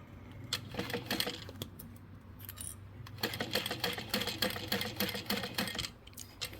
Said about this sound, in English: I'm gonna start right in that seam with my basting.